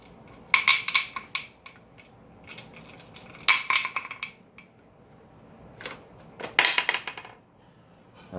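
Metal clinks and scrapes come from unscrewing the knobs on a pressure canner lid, three short clusters of rattling taps separated by quiet pauses.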